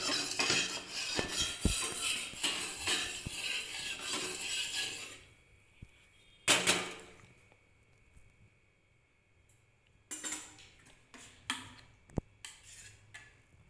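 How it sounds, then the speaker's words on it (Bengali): A spatula spreads rice-flour batter for gola ruti across a hot pan, scraping steadily for several seconds before fading into near quiet broken by a few sharp metallic clinks. "আমি খুন্তি দিয়ে চাড়িয়ে দিলাম এইভাবে করে"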